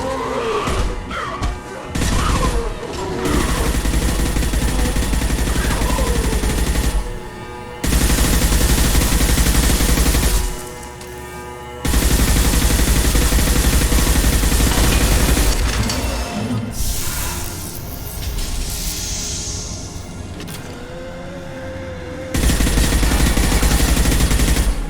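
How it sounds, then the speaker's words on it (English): Heavy gunfire crackles throughout a Mass Effect 2 firefight, with loud bursts of shots and crashing impacts broken by short pauses. "Taking heavy fire."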